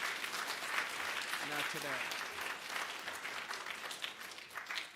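An audience claps steadily for a musical performance at an Inauguration Day school ceremony, a continuous moderate applause with a brief voice speaking partway through.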